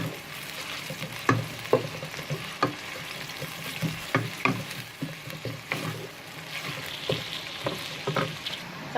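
Sliced onions fry in a pan for an arvi masala dish, giving a steady sizzle broken by frequent stirring scrapes and clacks, fairly close with no voices.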